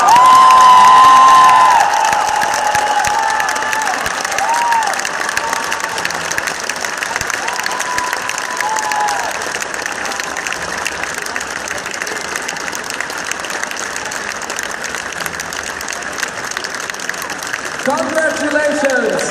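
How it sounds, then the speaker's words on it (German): A large indoor crowd at the Gamescom 2014 Blizzard cosplay contest final applauds the winner, with dense, loud, sustained clapping and cheering that peaks at the start and carries on steadily while an announcer speaks over it. "Aber großer Applaus für Pierre-Alexandre!"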